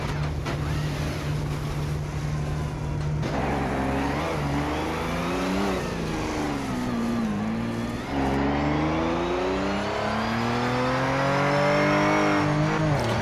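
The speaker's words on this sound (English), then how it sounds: "Everyone revs to the maximum revs." Several race car engines in the Project Motor Racing game rev hard at a race start, layered rising and falling whines and climbing pitches sounding loud and continuous.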